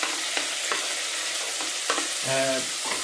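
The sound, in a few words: cooking noise, food frying and being stirred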